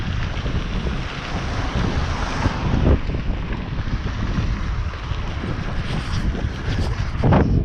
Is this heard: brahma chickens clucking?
no